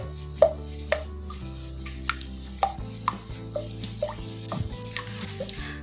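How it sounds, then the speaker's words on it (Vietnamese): A utensil clinks and scrapes against a pot while stirring thickening batter for Vietnamese xu xê cake, in a slow, irregular rhythm, with sharp taps standing out over a low, steady hum. "Mình quấy đều để cho cái phần bột của mình nó không bị dính ở dưới đáy nồi"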